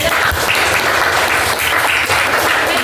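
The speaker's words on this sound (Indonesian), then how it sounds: "Kasih tepuk tangan teman-temannya." Classmates clap together in a classroom during a math lesson on integer operations, a dense, steady round of applause that fills the room for a few seconds.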